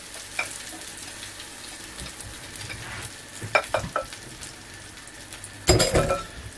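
Beaten eggs for an omelette hit a hot oiled pan and sizzle, with a soft continuous fry, scattered utensil clinks and scrapes, and a loud burst of sizzling near the end, close by with no voices.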